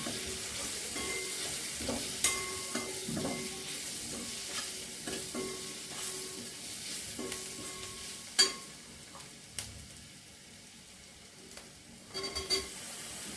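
Taro root vegetable being sautéed in a pan, a steady close sizzle broken by repeated clinks and scrapes of a spatula stirring, with sharper knocks scattered throughout and no talk.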